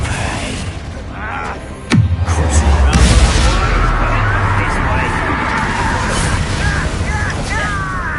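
Bombarda and Confringo spell blasts in a wizard video game, a sharp bang followed by a sustained rumbling burst, loud and close, with someone speaking throughout.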